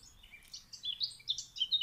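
Birds sing outdoors in thin, high chirps and short warbling phrases, faint at first and growing a little busier, with no voices present.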